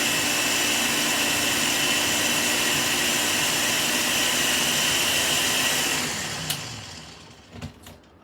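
A blender grinds a carrot and ginger dressing, a loud, steady motor whine with churning texture that winds down and cuts off near the end, followed by a few faint knocks.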